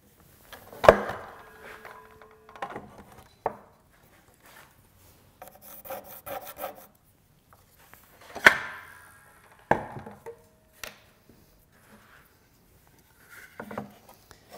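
Brief scratchy rasps of a pencil on wood, a few short strokes separated by quiet pauses, close and soft.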